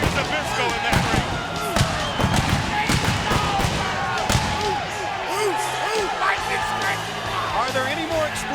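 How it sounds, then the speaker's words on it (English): Pyrotechnic blasts go off in a rapid series of sharp bangs and thuds at a WCW Monday Nitro wrestling entrance, over a roaring arena crowd. "Are there any more explosions?"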